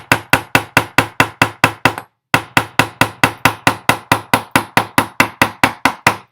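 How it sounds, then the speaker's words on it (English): A ball peen hammer strikes a jump ring held against a wooden bench peg, texturing the metal with a fast, even series of sharp metallic taps. It breaks off briefly partway through, then the same close, loud rhythm picks up again. "Then you can push that up against a bench peg up on the side there, and you can hammer."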